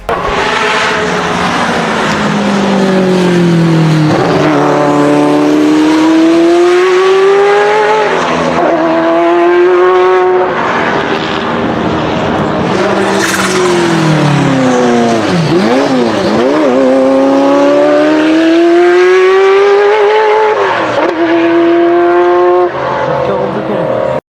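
Ferrari F40 twin-turbocharged engine and exhaust, loud and close, revving up and down in repeated sweeping pulls with wastegate chatter and brief tyre squeal, sustained throughout with no break.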